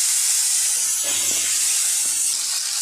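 Vegetables tipped into hot oil already flavoured with black cumin and dried red chillies, making a steady, loud hissing sizzle that runs the whole time, with a few low clunks of the pan partway through.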